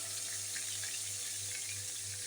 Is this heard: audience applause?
no